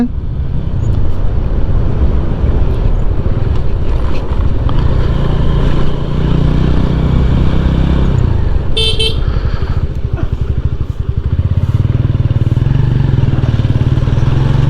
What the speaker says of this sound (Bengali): গ্রাম সড়কের উপর আমার বাইক ছুটে চলেছে